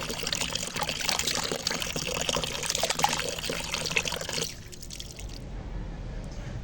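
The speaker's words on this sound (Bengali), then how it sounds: "এই জল পাল্টে পাল্টে ধুয়ে আর জল দিয়ে রেখে দেবো ভিজিয়ে" Rice is washed in changing water, sloshing and splashing steadily up close for several seconds before dropping to a quiet trickle, with no voices.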